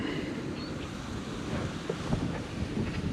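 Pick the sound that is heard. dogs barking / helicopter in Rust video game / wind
wind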